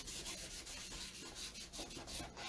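Steady, close scraping and rubbing of a star transfer being rubbed off a patriotic sign frame, with a continuous gritty texture and slight rhythmic surges and no talking.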